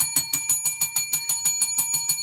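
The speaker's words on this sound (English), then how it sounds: "Let's ring the bell." A bell rung repeatedly in a quick, steady rhythm, about a dozen bright metallic dings over two seconds, clear and close with no talking.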